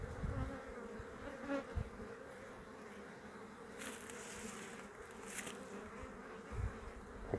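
Honeybees hum around a hive during a honey harvest, a faint continuous buzz with a few closer insects passing by now and then, with no talk.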